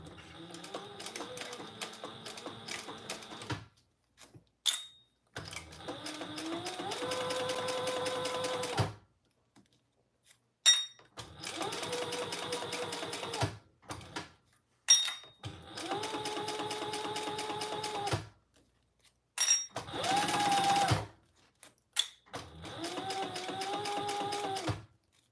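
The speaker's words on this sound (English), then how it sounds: "now I'm just going to sew down the raw edge between my marks" A sewing machine stitches down the raw edge of a laptop bag, running in several steady whirring bursts separated by brief pauses and clicks, close and fairly quiet, with no speech.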